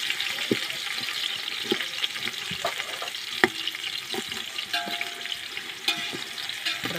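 Onion and other biryani ingredients fry in a village-style pan with a steady close sizzle, broken by repeated clinks and scrapes of stirring at an irregular pace, and no talking.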